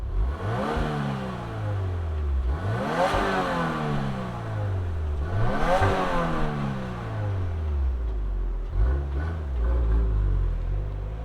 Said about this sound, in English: Let's fire up this black on black WRX TR and hear if it makes any sound.